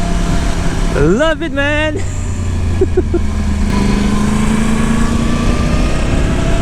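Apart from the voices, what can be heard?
Yamaha YZF R1 crossplane engine sound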